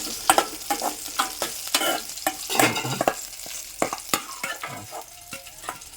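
Tomatoes go into a pan and fry while being stirred, giving a crackling sizzle broken by repeated close scrapes and clatters of a spoon, with no voices.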